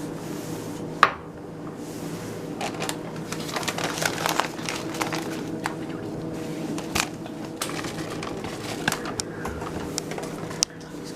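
Sesame seeds being stirred into a thick pasteli mass in a pot give a steady, close run of sticky scraping and crackling, with occasional sharp clinks of the utensil against the pot.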